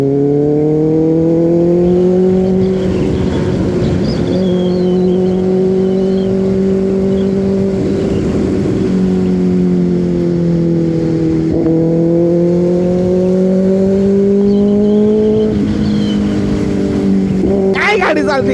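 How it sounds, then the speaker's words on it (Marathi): A car worth 15 lakh rupees driven on the road to Alibag, its engine droning loud and close with a steady hum that climbs and dips in pitch as it accelerates and shifts gears. "ही गाडी मी चालवतो"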